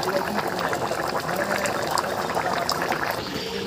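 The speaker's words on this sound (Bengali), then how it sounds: "ঝোল পুরো তকবক করে ফুটছে" Curry gravy in a covered pot for a taro-and-egg dish, boiling hard with a dense, continuous bubbling and gurgling throughout, close and even in loudness.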